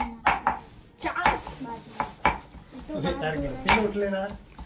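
Paneer being chopped for a home-cooked paneer curry, a run of sharp close knife knocks on a board mixed with clinks of pots and utensils while people talk in Gujarati.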